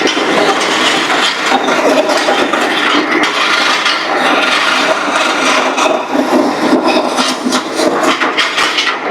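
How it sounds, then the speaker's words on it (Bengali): A sugarcane cleaning machine scrubs dirty stalks of sugarcane with a loud, continuous abrasive grinding and rubbing noise, rough and steady throughout at close range. "নোংরা আখটাকে কয়েক সেকেন্ডের মধ্যে পরিষ্কার করে দেওয়া হলো।"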